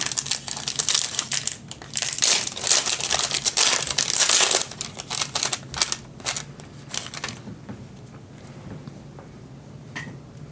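Paper packaging from a Secret Lair card pack crinkles and crumples loudly in dense bursts, then thins out to a few softer rustles toward the end.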